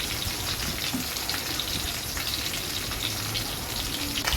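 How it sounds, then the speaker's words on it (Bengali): Hilsa fish fry in mustard oil over raised heat, producing a dense, continuous close sizzle and crackle at an even level throughout, with no voices. "এরপর আমি চুলা আঁচটি একটু বাড়িয়ে নিলাম এবং মাছগুলোকে ভালো করে ভেজে নিলাম।"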